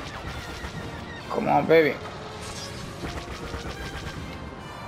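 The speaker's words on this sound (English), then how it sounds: "Somebody shooting at me." Blaster gunfire in a Star Wars Battlefront match, a short burst of loud shots around the middle with scattered weaker firing after, while someone talks over the action.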